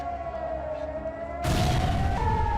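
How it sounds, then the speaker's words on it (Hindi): Civil defense air-raid sirens wailing over Haifa, Israel at 5 a.m. during a rocket attack: a steady, slightly rising siren tone, then a loud broadband boom-like rumble that continues beneath the siren, with no voices. "जहां सुबह 5 बजे अचानक सायरन बज उठे"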